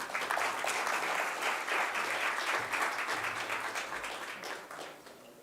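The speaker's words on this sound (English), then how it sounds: "Once again, a warm round of applause," Steady, dense applause from an audience at a business launch event, loud and continuous throughout, easing slightly toward the end.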